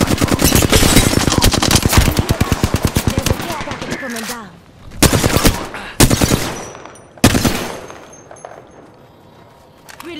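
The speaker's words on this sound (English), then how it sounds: "Listen up, I'm getting shot at." Video game gunfire: a long rapid automatic burst of loud close shots, then pauses broken by a few separate heavy bursts fading into quieter ambience.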